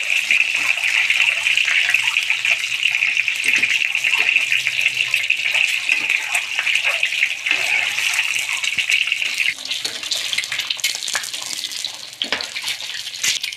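Eggs frying in vegetable oil in a pan for a spinach egg curry, a steady loud hiss and sizzle running throughout with a slight drop near the end.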